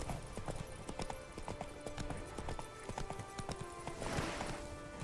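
Hooves of Roach, the horse in The Witcher 3: Blood and Wine, clip-clop steadily at a brisk walking rhythm, close and distinct, over faint game ambience.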